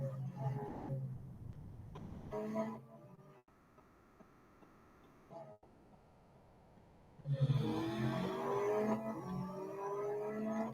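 Race car engines in the racing video game Real Racing 3, heard during a track day event: a low engine drone early, a quieter stretch, then a louder, higher-pitched revving rise from about seven seconds onward.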